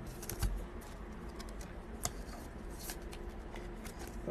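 2023 Topps Chrome Sapphire baseball trading cards being handled and slid into rigid top loaders, giving soft, close, quiet plastic-and-card rustles and taps with a sharper click now and then.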